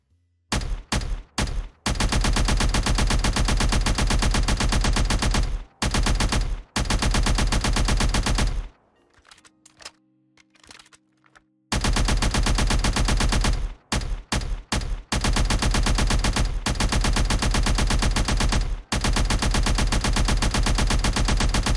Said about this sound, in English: Then I typed in the sound here to make sure the gun uses that sound effect.